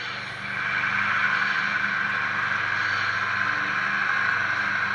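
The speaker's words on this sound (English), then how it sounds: "It's a Bachmann engine with a Soundtrack Tsunami 2." An HO scale Bachmann 70-tonner model locomotive fitted with a Soundtraxx Tsunami 2 sound decoder gives a steady, moderately loud diesel engine drone with a constant idling hum. It runs alone, without talk.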